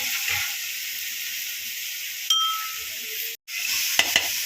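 Green chilli thecha sizzles steadily in hot oil in a pan, a continuous bright hiss with a brief stir and a short break near the end, followed by a couple of light clinks.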